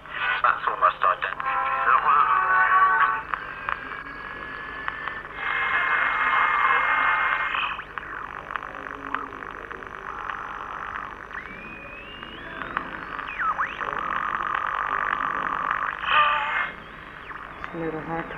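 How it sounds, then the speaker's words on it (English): A small synthesizer in an interactive installation produces sustained electronic tones and sweeping, warbling pitches in bursts, fairly loud, with pauses and a faint steady hum between. "the synthesizer is supposed to generate"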